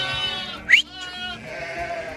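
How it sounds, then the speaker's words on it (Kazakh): Lambs and sheep bleat in the morning at lambing time, with one sharp nearby bleat standing out briefly over a softer low murmur of the flock. "Таңертеңгі қой шуылдап жүрген қозылар."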